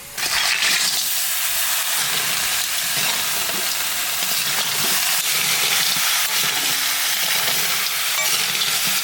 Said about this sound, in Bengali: মশলার সাথে কাঁকড়া মাছটা একটু কষিয়ে নিলাম